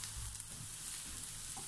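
Garlic sautés in a pan for stir-fried broccoli with shrimp, a steady soft sizzle with low frying hiss running continuously and close, fairly quiet, with faint stirring movement.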